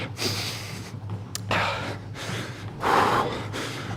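Heavy, rapid breathing during an aerobic interval workout, with loud repeated gasping inhales and exhales close to the microphone, one after another and alone without talk.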